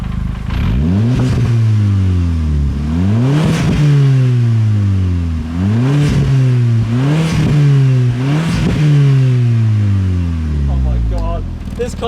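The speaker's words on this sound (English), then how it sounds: "Let's do a quick rev." A white Audi engine revved repeatedly while parked: about seven sharp throttle blips rise and fall in pitch in quick succession, loud and close over a steady idle.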